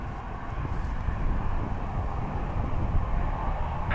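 An ATR turboprop taxis at Dublin Airport, its steady broadband engine roar and propeller drone filling the clip evenly and loudly without pause.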